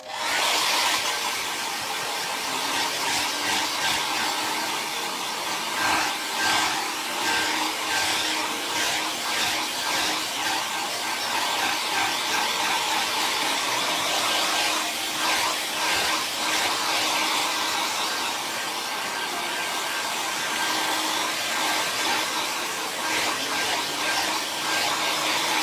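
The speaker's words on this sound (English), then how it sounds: "I'm just going to use the old hairdryer to dry it off." A hair dryer blows steadily and loudly up close, a constant whooshing roar with a faint high whine, running without pause throughout.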